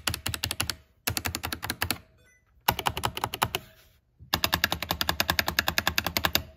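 Rapid, crisp key clacks come from a Roccat Vulkan Pro gaming keyboard in several fast bursts of steady typing separated by short pauses, close and sharp with no speech over them.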